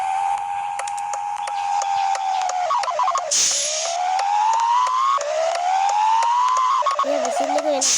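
A bus whistle or horn in the Bus Simulator Sri Lanka video game sounds as a loud, continuous tonal whistle that repeatedly rises and falls in pitch, with a brief noisy burst midway.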